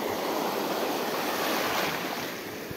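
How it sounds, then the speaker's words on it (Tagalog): Large ocean waves break at a shoreline fishing spot, a steady, loud broadband roar with wind noise, heard alone without any talk. "So medyo malaki yung alon"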